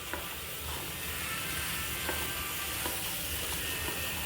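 A spoon stirring meat masala through mutton curry in a pan over a stove, a steady close scraping and soft sizzle running continuously with faint clicks, no talking.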